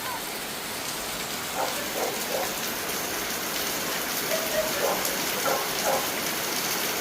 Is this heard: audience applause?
no